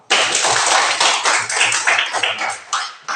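Classroom applause for a student group: dense, steady clapping from many hands fills the room, starting abruptly and continuing evenly for about three seconds with slight swells.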